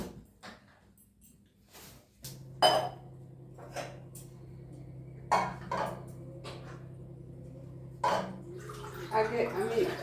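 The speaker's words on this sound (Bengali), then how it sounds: "আমি একটা জল ভরা নিই, তো জলটা ভরে নিচ্ছি" Water filling a container in a home kitchen, a steady low running stream under scattered clinks and knocks of dishes, with someone talking intermittently nearby.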